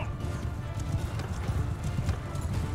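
Horse archers gallop in Mount & Blade II: Bannerlord with the Realm of Thrones mod, a dense, continuous patter of hoofbeats at moderate volume with faint voices in the background.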